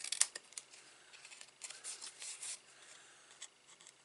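Scissors snip and rub through gift box paper at a score line, a few close, soft crisp cuts and scraping strokes, with no talking.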